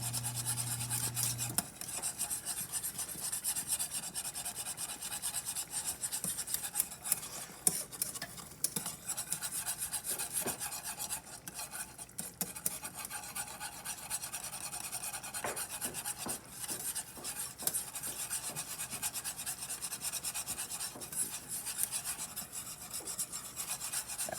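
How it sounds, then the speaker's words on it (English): A whisk scraping and rasping continuously as cornmeal is worked into melted butter for polenta, a steady close scratching against the pot with small clinks. "we're going to go ahead and stir in the cornmeal for the polenta. And you want to make sure that you whisk it so that you don't have lumps"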